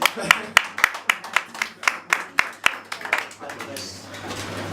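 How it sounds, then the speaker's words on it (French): Audience applause at a French association gathering, a run of sharp, separate hand claps close by that thin out and fade toward the end, with a low steady hum underneath. "Merci pour vos applaudissements."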